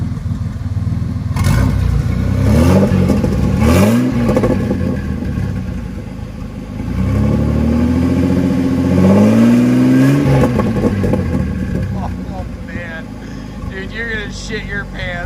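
A turbocharged V6 Mustang engine rises and falls in loud revs as gas is applied, with two swelling pulls close by. People speak briefly over the engine noise.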